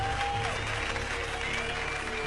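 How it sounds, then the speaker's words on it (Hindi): Audience applause at a stand-up comedy show, a steady dense wash of clapping from a crowd throughout, with no pauses. "जब वो अपना स्टैंड अप कॉमेडी शो करता, लोग तालियों से उसकी हौसला अफजाई करते।"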